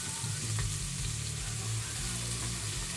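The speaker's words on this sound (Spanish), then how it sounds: "Ahora, ¿por qué suena y bota tanto humo? Porque la cebolla tiene agua." Chopped onion sizzles and crackles steadily in hot oil in a pan, a continuous close frying hiss with a low hum underneath throughout.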